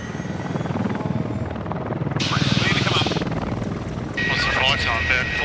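A rescue helicopter flies over remote Lake Augusta with a loud, continuous rotor chop that pulses steadily throughout. Voices speak over the rotor noise.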